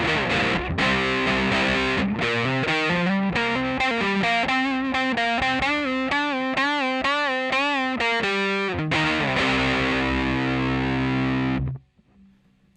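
Distorted electric guitar playing the first chorus of a song, a loud, steady chordal part with shifting notes that rings out alone for about twelve seconds before cutting off abruptly.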